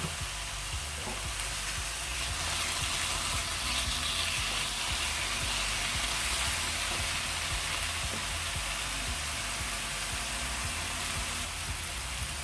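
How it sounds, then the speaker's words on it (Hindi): Chicken fries in a pan with spices, giving a steady, dense sizzle that stays loud and even throughout with no talking. "चिकन को हम हल्का सा फ्राई कर लेंगे"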